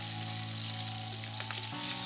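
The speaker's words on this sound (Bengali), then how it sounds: "আমার মাছের এক পাশ ভাজা হয়ে গেছে।" Hilsa fish fry in hot oil in a pan with a steady, close sizzle and crackle, broken by a brief shift near the end as the pieces are moved.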